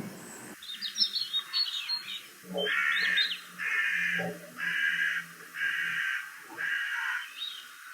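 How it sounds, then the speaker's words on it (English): A carrion crow caws repeatedly from a conifer in a garden, five or six harsh calls in an even rhythm, fairly close, with small birds chirping faintly in the background. "There's a carrion crow on a conifer behind me, calling out."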